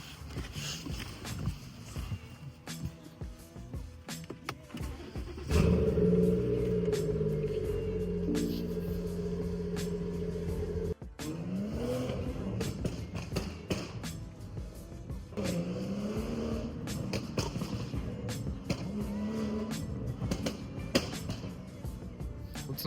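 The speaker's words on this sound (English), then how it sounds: "for now I'll give you guys a cold start" A car engine cold-starts up close: a rough lead-in gives way to a loud catch and rev, then the engine settles into a steady idle with a few swells in pitch.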